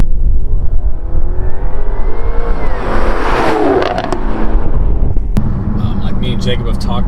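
A Jaguar F-Type R sports car accelerates hard, its engine rising loudly in pitch and roaring close by, with a sharp mechanical burst near the end.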